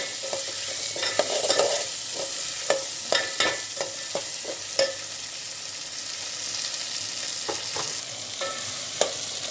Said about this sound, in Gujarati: જો આવી રીતે તેલમાં એકદમ વટાણા ગળી જાય બટેકા પણ સરસ તેલમાં શેકાઈ જાય